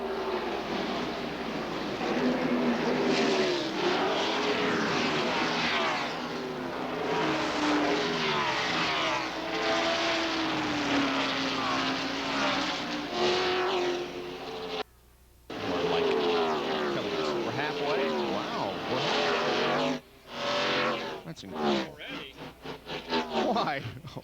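NASCAR race cars roar around the track at the 1997 Primestar 500, loud engine drones swelling and fading as cars pass, under commentators' talk, with a brief cut near the middle.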